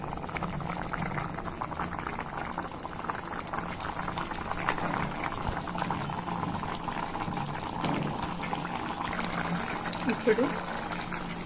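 Dal mixture bubbles steadily in a pot on the stove, a continuous soft simmering hiss with occasional pops, broken by faint kitchen clatter near the end.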